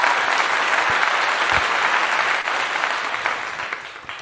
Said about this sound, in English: I got to give you a clap on that, Michael Ross.